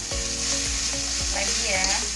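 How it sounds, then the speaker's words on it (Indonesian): Jengkol with spices frying in a pan gives a loud, constant sizzle while a utensil stirs and scrapes, with repeated knocks against the pan and a few tonal scraping squeaks. "Diaduk lagi sampai rata ya Bunda."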